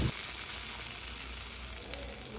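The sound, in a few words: cashews frying in ghee in a pan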